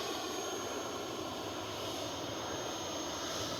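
An E-flite Viper 90mm electric ducted-fan RC jet powers up for takeoff, a steady whooshing whine with a faint roar that holds even and moderately distant, no voices.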